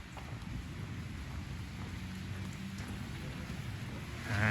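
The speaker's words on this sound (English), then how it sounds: "And back into the rain, Joep." Steady rain hisses during a bicycle ride through the Aachen forest area on the Tour de Geul route, a constant close wash of drops with faint wind. The noise swells near the end.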